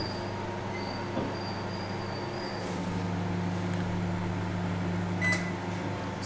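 IFB microwave oven running in convection mode at 180 degrees while cooking French fries, a steady low hum with a faint whirring fan and occasional small clicks.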